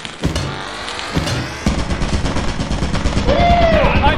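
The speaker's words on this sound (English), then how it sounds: "Why is there a turret at the exit?" Automated turret in Lethal Company opening fire near the facility exit, a rapid, loud stream of gunshots that kicks in after a couple of sharp bangs and keeps hammering steadily, with a brief whine over the top.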